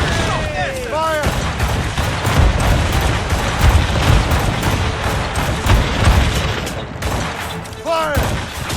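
Ship cannons firing in a naval battle in Assassin's Creed Rogue: dense, loud booming volleys overlapping into a continuous barrage with whooshing projectiles, near and rumbling, with shouted voices among the gunfire.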